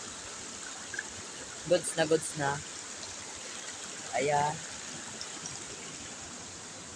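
Shallow stream water flows at a bathing spot, a soft continuous trickle running beneath a few short bursts of nearby talk.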